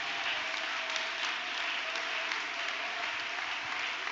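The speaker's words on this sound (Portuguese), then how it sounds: "Pode dar aplausos para Jesus." Congregation applauding during a church service after a sermon, a steady, dense wash of clapping that holds evenly for the whole stretch with no speech on top.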